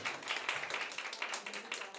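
A French comedy-show audience claps in answer to the comedian, a fairly faint, steady patter of many hands heard from a distance throughout.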